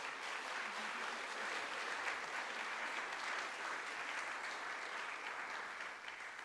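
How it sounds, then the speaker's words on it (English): An audience at a city council candidate forum applauding, a dense, steady wash of clapping from many hands that holds at even loudness for several seconds before easing slightly. "Please give her a round of applause."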